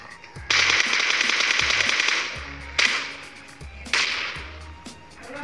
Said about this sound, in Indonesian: Skill ledakan lah. Skill ledakan.